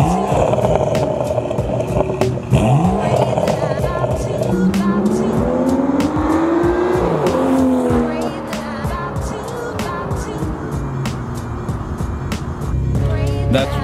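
A BMW F30 with an N55 engine revs hard and roars, exhaust pitch sweeping up and down through several bursts, with sharp pops and crackles from the exhaust.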